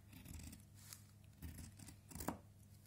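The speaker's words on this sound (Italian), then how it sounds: "Questo, ad esempio, è un taglio di profondità, quindi non arrivo mai a chiudere totalmente le forbici." Fabric scissors make long, deep cuts through sewing material without fully closing the blades, three or four crisp snipping and sliding strokes at close range, quiet and otherwise silent.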